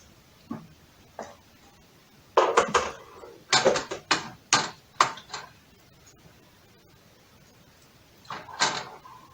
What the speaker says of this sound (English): And just stirring that into the mix as well.